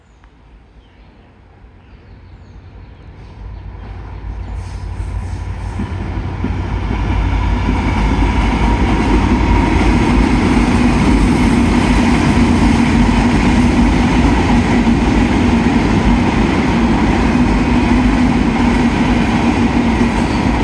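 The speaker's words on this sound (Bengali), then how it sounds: "ঢাকা অভিমুখী সাতশো পঁচানব্বই Benapole express Suryanagar rail station অতিক্রম করবে" Dhaka-bound Benapole Express with a Chinese-built rake passing Suryanagar railway station: a steady rumble and rattle of wheels that swells over the first several seconds, then holds loud and close as the carriages roll by.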